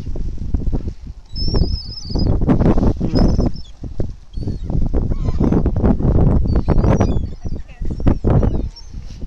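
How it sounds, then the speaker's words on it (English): A flock of seagulls flying overhead, wings flapping and high calls ringing out in bursts. Loud, busy and close, with people talking underneath the whole time. "Can't see through all the seagulls"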